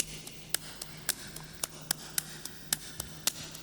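A clap drum loop treated with dynamics processing, EQ and reverb repeats as evenly levelled, softer-edged claps with a short reverb tail. The pattern is steady and quiet, and the claps sound alone.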